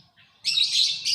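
Pet canaries and lovebirds let out a brief, bright burst of chirping close by, a faint note followed by a louder, sustained twitter that lasts about a second.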